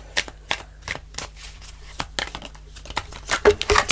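Small tarot cards are shuffled by hand in a series of crisp, close riffling and flicking bursts, irregular in rhythm and growing busier toward the end, with no voices.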